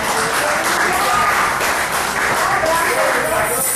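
Church congregation giving loud applause for Jesus during a Spanish-language service, continuous dense clapping throughout with voices mixed underneath.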